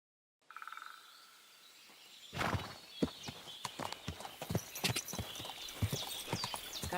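Horse hooves clip-clopping in the medieval video game Kingdom Come Deliverance 2, a steady run of distinct, close hoofbeats following a brief faint tone and a short quiet start.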